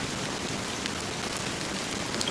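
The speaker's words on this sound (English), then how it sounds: "how long has this rain been going on for?" Steady rain pours down in the video game Honkai, a dense, constant hiss of falling drops with no pauses, close and even throughout.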